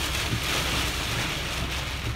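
Steady rain and wind roar of a fast-moving derecho storm in eastern Iowa, heard as a dense continuous wash with low rumbling underneath, no distinct thunder crack, close and fairly loud.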